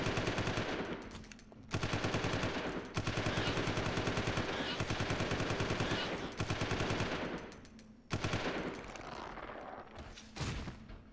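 Dense rapid gunfire from a weapon in Resident Evil 0 HD Remaster rattles almost continuously, broken by a few short gaps and a final isolated shot, loud and close.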